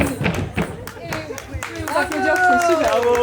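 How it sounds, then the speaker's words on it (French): Audience hands clapping at a Kuchipudi Indian dance workshop in an Olympic fan zone, a burst of scattered claps that thins out as a voice begins talking over it. "Applaudir, c'est super."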